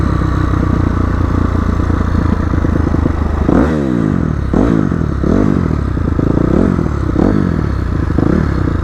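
Dirt bike ridden off-road, its engine droning steadily and loud throughout, with several sharp revving surges and rattling clatter as the bike bumps over rough ground.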